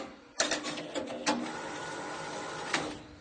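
An automatic banding machine wraps a band around printed matter, a close mechanical whir with a sharp start and several clacking pulses as it cycles.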